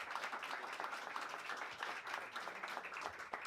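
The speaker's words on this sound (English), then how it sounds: "Give him a big round of applause." Steady applause from a crowd at a baseball showcase, a dense patter of hands clapping at moderate distance with no talking.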